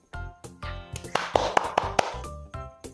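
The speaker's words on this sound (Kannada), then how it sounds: "ಎಲ್ರು ಜೋರಾದ ಚಪ್ಪಾಳೆಯಿಂದ ಸ್ವಾಗತಿಸಿ ಗಿರ್ವಾನ್ ಸಾಗರ್ ರೆಡ್ಡಿ" Applause greeting a guest, Girvan Sagar Reddy, arriving on a comedic interview show: a burst of hand claps, fairly close, with several sharper slaps standing out and no talk over it.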